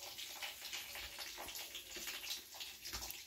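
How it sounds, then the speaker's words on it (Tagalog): A little water is poured onto sweet potato shoots growing indoors, a faint, soft trickling and splashing that comes in uneven bursts over a few seconds. "Kunti-kunting tubig lang po inilalagay ko."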